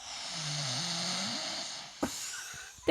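A man snores alone in a short recording, with one low, drawn-out droning breath followed by a couple of sharper snorting bursts.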